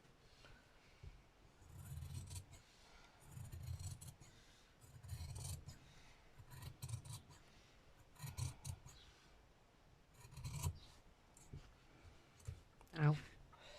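Sharp scissors snip through gelli-printed fabric in a steady series of low crunching cuts, roughly every second, close by, with a few sharper clicks toward the end.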